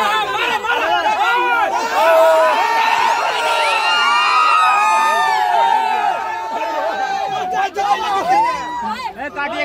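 A large crowd packed in at a Bhojpuri music show in Gorakhpur, a dense roar of chatter and shouting voices with whoops and excited cries, loud and close throughout.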